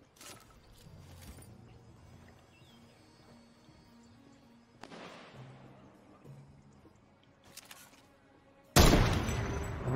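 Gunfire in the Fortnite video game: several scattered bursts of shots across a quiet stretch, ending with a loud, dense burst of firing, with brief speech underneath.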